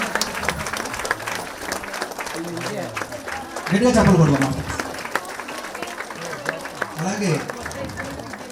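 An audience claps in steady, moderate applause at the inauguration of the Sri Basaveshwara Swamy Pyramid meditation ashram in Nalluru, with someone speaking loudly over it and swelling briefly midway.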